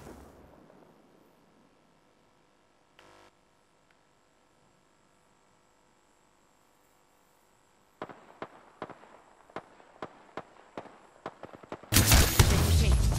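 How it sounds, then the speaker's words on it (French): Gunfire from Apex Legends: a quiet stretch, then a rapid string of sharp, close shots, around ten in an uneven burst, ending in a loud, dense volley. "J'ouvre le feu."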